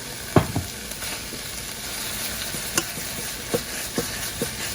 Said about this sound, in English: we're just gonna cook the tomato paste up a little bit, a couple seconds or so, just to really bring out the flavor